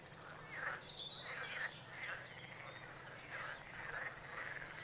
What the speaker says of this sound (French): Là, on a de belles grenouilles vertes.